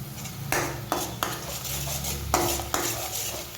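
Spices (red chilli powder, coriander-cumin powder, turmeric) being stirred into a ridge gourd curry, with several distinct metal spoon scrapes and knocks against the pan over a low sizzle and hum.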